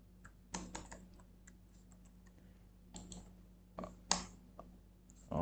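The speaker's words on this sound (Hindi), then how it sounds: "इसमें मैं कुछ भी टाइप कर रहा हूँ" Keys on a computer keyboard clack in short irregular bursts during coding work, quiet and close with pauses between flurries of keystrokes, over a low steady background hum and no talking.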